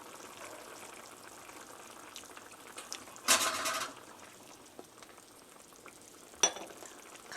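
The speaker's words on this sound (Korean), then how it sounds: "국물을 한번 이렇게 저어주시고요." A pot of napa cabbage stew broth with meat simmers and bubbles quietly while a utensil stirs it, with soft continuous bubbling, one louder clatter of stirring in the middle and a sharp clink near the end.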